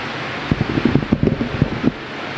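Electric ceiling fans whoosh steadily in a lecture hall, making a constant airy roar. A brief murmur of voices sits underneath midway through.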